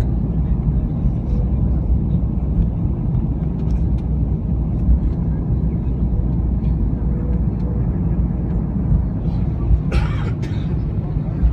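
Inside an airliner cabin in flight, a constant low engine and air roar fills the whole stretch, with a brief louder knock near the end.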